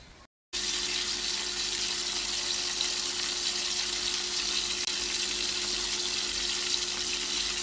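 Fish fries in hot oil in an iron kadai, a dense, even sizzle that begins sharply after a brief silence and holds steady and close for several seconds.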